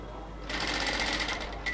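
A sewing machine stitches the upper joint of a cotton salwar, starting after a brief pause and running in a fast steady whirring rattle up close until the end.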